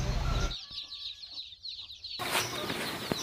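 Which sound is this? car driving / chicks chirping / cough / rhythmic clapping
chicks chirping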